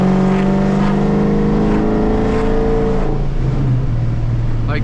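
A Dodge Challenger SRT8's deep, loud engine rumbles and revs under acceleration, holding a throaty drone that drops in pitch as it eases off.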